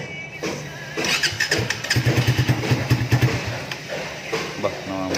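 Suzuki Raider 150 Fi motorcycle engine fitted with a new iridium spark plug, running close by with an uneven, sputtering putter that rises and falls, while people talk over it.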